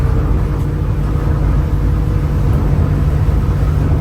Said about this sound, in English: Now I'm going to go ahead and wide open throttle this.